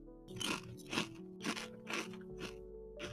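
Potato chips crunch loudly between the teeth, about six sharp bites in a steady rhythm roughly half a second apart, close to the microphone over a faint background hum.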